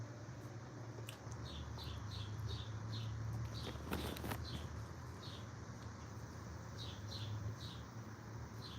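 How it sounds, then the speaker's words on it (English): Repeated short chirping bird calls sound outdoors in small bursts, fairly faint against steady background noise and a low hum, with a brief louder rustle partway through. "That bird really talking."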